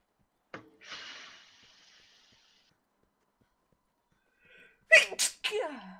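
A single loud sneeze bursts out in a quiet room, then people speak in German over a Monster Hunter World gaming session.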